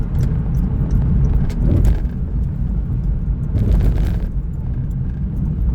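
A car drives along a road in a constant loud low rumble of tires and engine from inside the cabin, with a few light rattles and crackles and no talking.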